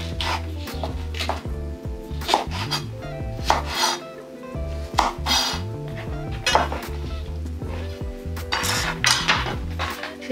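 Spring onions being cut with a knife for vegan pad Thai, a run of steady, closely spaced chopping knocks on a board with occasional clinks of kitchenware, close and clear with no talking.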